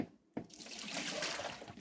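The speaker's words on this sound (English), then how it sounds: "we're going to heat the jars with some hot tap water" Hot tap water gushes from a faucet after a short silent pause, running steadily and fairly close as canning jars are heated for marinara sauce, with no talking.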